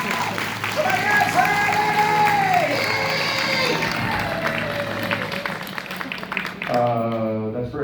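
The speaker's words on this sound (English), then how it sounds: "Big round of applause" Audience applause and cheering at a horror make-up stage show at Universal Studios, a steady wash of clapping and crowd noise under loud voices and shouting, continuing throughout.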